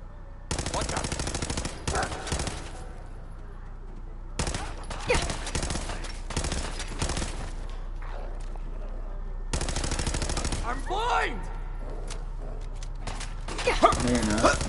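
Automatic gunfire in Fallout 4 erupts in three sustained loud bursts of rapid shots separated by pauses, with people talking over and between the volleys.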